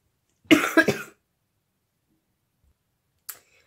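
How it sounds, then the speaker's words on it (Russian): A woman knitting a toy elephant coughs, a close burst of two or three quick dry coughs, then a long quiet pause and one short faint cough at the end. "Мне кашель покоя не дает."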